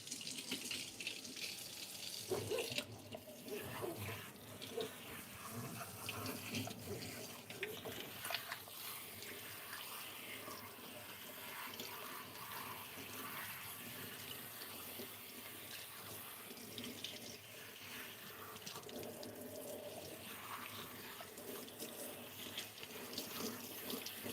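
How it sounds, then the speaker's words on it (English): Water pours steadily from a salon sink sprayer while hair is rinsed, a constant faint hiss with slight splashing variations that runs unbroken throughout. "we just rinsed out her highlights"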